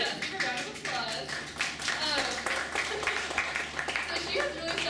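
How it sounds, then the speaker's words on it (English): An audience claps for Dr. Jen Hayes at a computer science event, a steady spatter of applause lasting throughout with voices mixed in underneath. "That's a round of applause."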